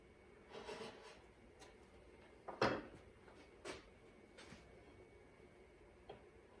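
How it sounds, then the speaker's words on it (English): A chisel pares the outer edge of a wooden seat, giving a few soft, scattered scrapes and one sharper rasping cut in a quiet workshop. "Not ideal chisel use towards yourself"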